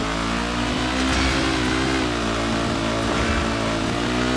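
Steady car engine hum with harmonic drone, driving and drifting in the stunt-driving video game Stuntman Ignition, continuous and loud with slight pitch wavering and no talk.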